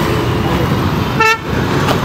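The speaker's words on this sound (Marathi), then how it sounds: "आले भाई आपली कार" A car arrives with a short clear horn toot, close and loud over steady traffic and engine rumble outdoors.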